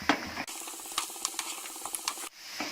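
Potatoes fry in mustard oil over a low-to-medium flame while being stirred, producing a close, steady sizzle punctuated by scraping stir strokes.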